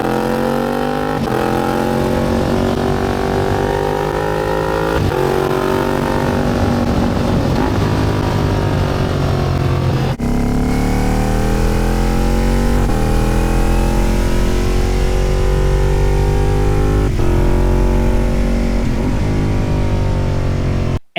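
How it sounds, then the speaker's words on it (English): A V4 motorcycle engine rumbles and growls steadily while being ridden, loud and close throughout, with rising and falling pitch sweeps as it revs through gears and a brief dip near the middle. "since both of my bikes are V4s, you know, the greatest engine soundtrack in the world, the engine is a sound I want to hear"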